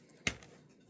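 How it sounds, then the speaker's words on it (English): A wristwatch clicks once against a desk during a crochet session, a single sharp, close tap standing alone over faint room noise. "That is my watch clicking here on the desk."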